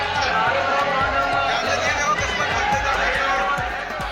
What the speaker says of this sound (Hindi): मंदिर में अपार भीड़ उमड़ी है।